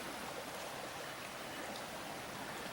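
Continuous rushing of flowing water, like a nearby stream, steady and even throughout with no voices.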